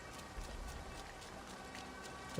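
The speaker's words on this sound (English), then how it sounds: "How is it raining" Light, steady rain patter in a video game (Assassin's Creed Valhalla) with scattered drops, fairly quiet, ending in a sudden louder burst.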